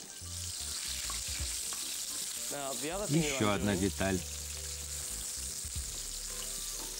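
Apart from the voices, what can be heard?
onion frying in a pan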